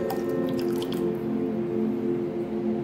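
Liquid pours from a jar in a steady close trickle during a ritual, a continuous gentle splashing stream.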